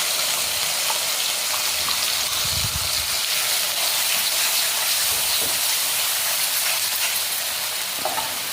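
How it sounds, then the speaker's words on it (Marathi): Ground masala paste with a few curry leaves fries in hot oil, giving a steady, loud sizzle and hiss that runs the whole time, with occasional stirring scrapes and no voices. "4-5 कढीपत्त्याची पानं टाकली आणि त्यावरच आपण केलेलं वाटण फ्राय करून घ्यायचं आहे छानपैकी।"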